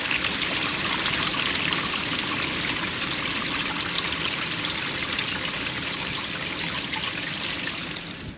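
Water rushes loudly and steadily out of an RV black tank being flushed, a dense continuous gush that barely changes before easing slightly at the end.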